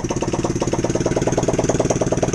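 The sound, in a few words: Apollo 125MX3 dirt bike engine kick-started and idling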